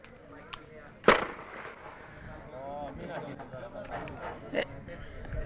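Firecrackers set off by football fans at a youth academy match, one sharp loud bang standing out near the start and a smaller pop later, over steady crowd noise and nearby talk.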